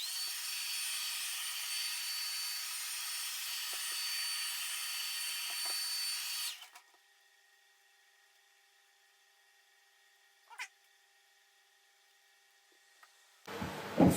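A heat tool blows on an iPad digitiser to warm its adhesive, a steady, airy whirring hiss for several seconds that then cuts off, leaving near silence broken by a faint click and some close handling noise.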